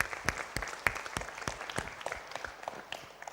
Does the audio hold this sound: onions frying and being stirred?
no